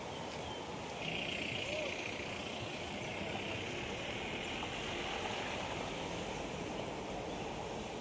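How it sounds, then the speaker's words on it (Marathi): Floodwater of the Bharja river pours over a submerged bridge, a dense, unbroken rushing roar that stays loud and constant from start to finish. "भारजा नदीचा पूल जेव्हा पाणी भरतो, पुलावरून जातो"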